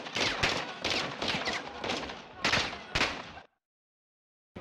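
Bursts of gunfire in Call of Duty: Modern Warfare 2, rapid repeated volleys in quick clusters for about three seconds before cutting to near silence.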